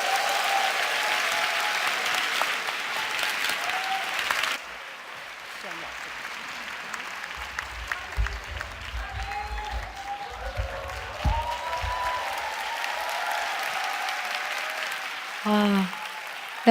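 Audience applause welcomes a singer onto the stage at a Daniel prayer meeting, strong and continuous for a few seconds, then dropping to scattered clapping, low rumble and quiet murmurs.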